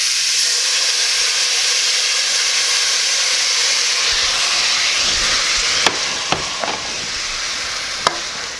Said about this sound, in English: I'm going to hit it with the white wine.